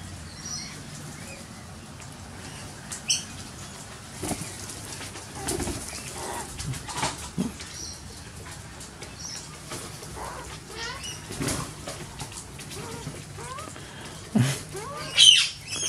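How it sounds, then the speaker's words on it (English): Young and adult magpies and peewee larks call outdoors, with scattered chirps, squawks and wing flaps over a soft, steady background. "Over there we've got another young magpie and a male peewee lark in the background."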